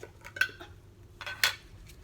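A small new spoon clinks and taps against containers while Aromazone lip gloss is being measured out, a few sharp metallic clicks with quiet pauses between.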